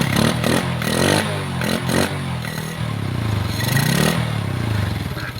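A motorcycle engine, freshly reassembled after clutch plate repair and an oil refill, runs close by with a rough, rattling idle and uneven revs throughout.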